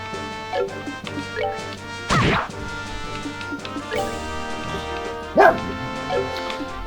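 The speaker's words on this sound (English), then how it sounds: "Sorry, my dog is being very barky today" A pet dog barks and yips in a few short bursts, close by and fairly loud, heard over video game music during a playthrough of Trails in the Sky FC.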